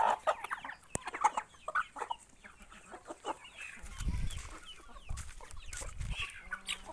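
Turkeys and hens clucking and calling in short bursts, with lower turkey gobbling joining partway through, fairly close with some background noise.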